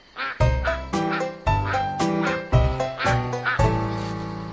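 A duck quacks loudly and repeatedly, several nasal calls in quick succession, close and clear.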